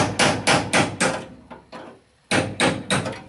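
Hammer blows drive a steel chisel against the metal body of a Kombi van, landing in quick bursts of sharp, loud, close strikes with a short pause midway before another run of evenly spaced hits.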